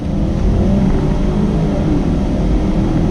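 A 2019 BMW X7 SUV accelerating, its engine a steady, loud, low rumble with road and wind noise building as it gets on the gas, continuous throughout and heard from inside the cabin.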